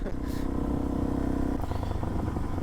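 A Suzuki DRZ 400 SM motorcycle running on the road, its single-cylinder engine droning steadily close by with a sustained tone, then shifting pitch as the revs change, under wind noise.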